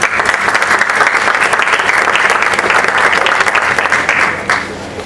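Loud, dense applause from the audience at a book series launch event held in Spanish, holding steady for about four and a half seconds before it thins and fades.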